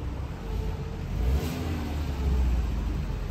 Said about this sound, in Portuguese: dando partida no Fuscão aí, ó, vamos escutar o barulho dele